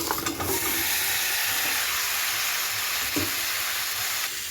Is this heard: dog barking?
no